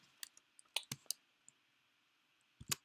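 Sparse, quiet keystrokes tapped on a computer keyboard, a few isolated clicks followed by a short burst near the end, with no talking.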